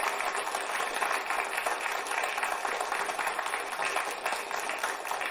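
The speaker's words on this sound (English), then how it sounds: "let's give another round of applause for Vyacheslav" An audience gives a speaker a round of applause at a live-coding session, a steady, fairly quiet wash of many hands clapping that holds evenly from start to finish.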